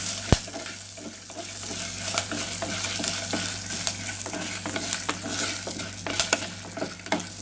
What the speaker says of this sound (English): I am going to switch off the gas and then continue sauteing it.